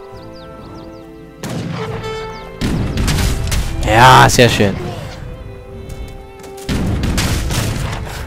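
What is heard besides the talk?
cannon fire in Age of Empires 3 video game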